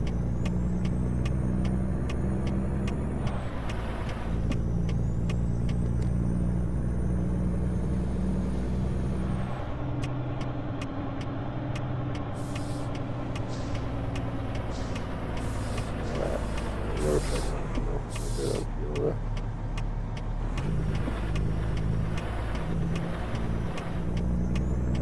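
A semi-truck in American Truck Simulator labors with a deep, constant engine drone, loud and near, accompanied by rising whines, hissing air-brake bursts and clattering mechanical ticks throughout.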